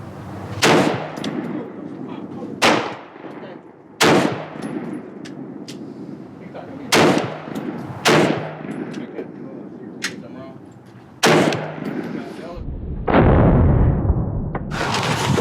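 Gunshots from a Midwest Industries Tactical Response 25th Anniversary AR-15 rifle fired at a range, about eight sharp, loud single cracks spaced a second or more apart, each with a short echoing tail, then a longer noisy burst.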